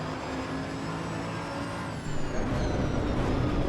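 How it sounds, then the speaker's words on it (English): Race car in Assetto Corsa Evo: a loud, high-pitched engine whine holds steady, then shifts down about halfway with a rougher, throatier burst as the revs change. "this car sounds good, the crackles, and has a lot of power"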